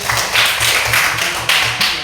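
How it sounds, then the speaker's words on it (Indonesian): An elementary class of fourth-grade pupils claps hands together in a loud, rhythmic patterned clap. Repeated bursts of claps come in an even beat with no pauses between them. "tepuk tangan untuk hari ini"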